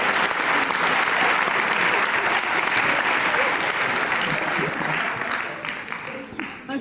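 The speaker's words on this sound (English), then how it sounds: "I hope you'll join me at home for one last round of applause for you all." Applause from the audience at the grand finals of an engineering design challenge, a long sustained round of clapping and cheering that tapers slightly toward the end, with voices faintly mixed in.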